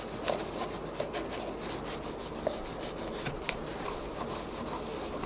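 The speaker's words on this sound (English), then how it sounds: "I get my rag, and I'm just gonna start applying it to the shoe." A rag rubs cleaner onto a shoe: a steady, close, dry scrubbing and rasping with a few light knocks scattered through, and no talking.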